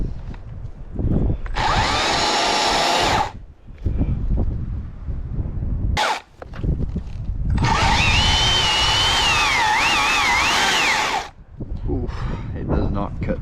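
A Stihl MSA 300 C battery chainsaw cuts through wood in two long bursts of loud, steady whining buzz with wavering pitch, separated by brief pauses and quieter handling noise, recorded close up with some wind on the microphone.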